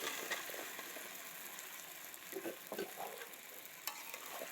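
Singi fish curry with potatoes and taro frying in a pan while being stirred: quiet continuous sizzling with intermittent scraping and stirring clatters, close and soft.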